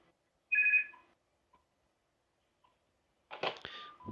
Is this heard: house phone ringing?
yes